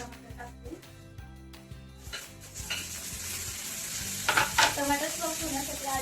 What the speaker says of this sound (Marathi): कांदा लाल झालाय. मी आता टमाटर टाकते.